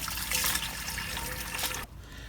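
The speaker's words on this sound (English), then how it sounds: "We're just gonna pour some hot water in here" Hot water pours into a container for wasp-killing dish soap solution, a close splashing gush lasting under two seconds before stopping abruptly.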